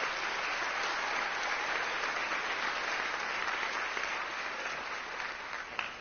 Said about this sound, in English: we'll go ahead and give the juniors a round of applause